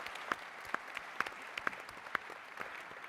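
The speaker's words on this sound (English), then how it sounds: "give them a round of applause." Conference general session audience gives sparse, quiet applause, a handful of distinct claps spaced apart over a soft room hum, with no talking.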